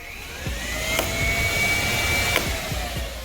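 Twin radiator cooling fans on an overheating sportbike run loud and close, a steady whooshing whine with a rising tone, punctuated by a few brief clicks.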